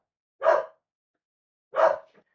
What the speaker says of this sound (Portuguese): Escutando um cachorro latir.